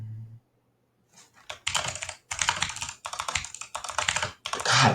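Fast bursts of typing on a computer keyboard, close and clicky, after a short pause, with several runs of rapid keystrokes broken by brief gaps, and no voices.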